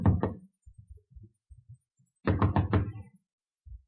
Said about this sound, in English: I knocked vigorously on the door marked private.